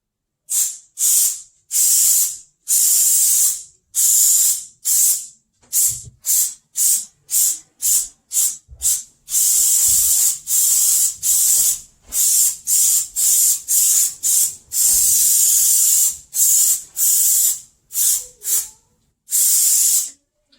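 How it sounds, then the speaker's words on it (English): Repeated hissing bursts from an aerosol can of spray adhesive, close and loud, in short irregular sprays separated by brief pauses, applied to new door cards for a 1962 Mercury Comet. "Let's give this a spray"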